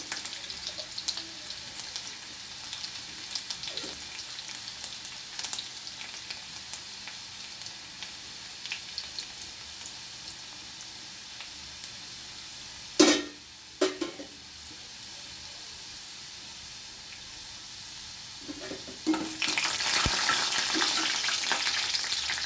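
Garlic sizzles steadily in a frying pan with a few sharp stirring knocks midway, then the sizzle swells to a louder hiss near the end.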